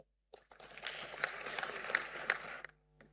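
Conference audience at a safe motherhood event breaks into applause, a dense wash of hand clapping that starts abruptly, holds steady for about two seconds with a few sharper claps on top, then dies away to quiet.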